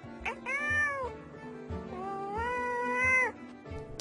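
A cat meows twice, each call long and drawn-out with a rising then falling pitch, fairly close and clear with no voices around it.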